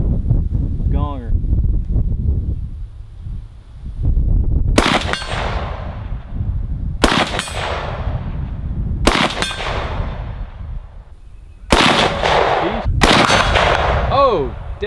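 Kel Tec CMR 30 rifle fired at a steel gong target outdoors: five loud, sharp shots spaced a couple of seconds apart, each with a ringing tail, over wind noise and a little talk.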